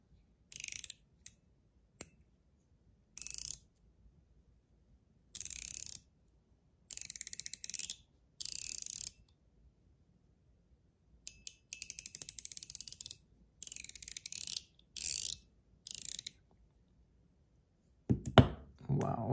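A mechanical slider giving off bursts of dry, rapid ratcheting clicks in separate runs with quiet gaps between them, close and crisp, followed by a short louder knock at the end.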